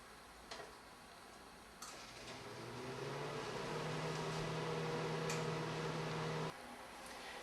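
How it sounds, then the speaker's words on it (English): Microwave oven running while heating a damp towel: a low steady hum that swells and holds, with a few faint clicks, then stops abruptly near the end; quiet. "I'll put that in the microwave."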